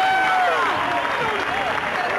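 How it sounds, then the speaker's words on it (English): Crowd applause in the winner's circle for Michael Andretti at the 1998 CART season opener at Homestead, a steady dense clapping wash heard under a commentator's voice. "But the winner today, Michael Andretti, as he pulls across in winner's circle and takes the applause for the first victory of the season."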